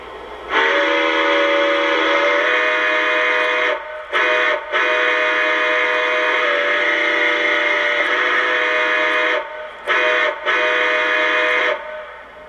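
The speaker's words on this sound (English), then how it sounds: "first let's hear the whistle." Lionel Pennsylvania 2-10-4 Texas model train whistle sounding in loud, steady chord-like blasts, three long toots separated by brief breaks, alone with no talk.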